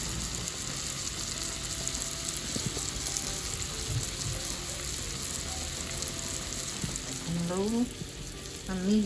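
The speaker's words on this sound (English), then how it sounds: "I love me a good sizzle." Chicken breast sears in a cast iron pan with garlic over low to medium heat, giving a steady close sizzle and crackle throughout, with a few faint clinks near the end.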